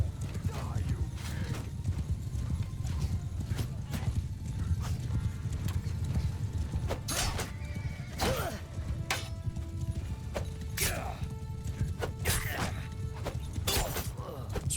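Horses gallop in a cavalry charge in the medieval video game Mount & Blade II: Bannerlord, a dense, continuous drumming of hooves joined by sharp clashing impacts and brief whinnies, with a voice shouting over the battle.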